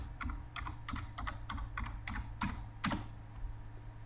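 Typing on a computer keyboard in a terminal: a run of about ten crisp, close key clicks spaced fairly evenly over four seconds, quiet and alone without speech.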